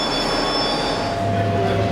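A graffiti-covered train rolls through a station, a loud continuous rumble of wheels and carriage noise with high steady squealing tones from the rails throughout, no voices heard.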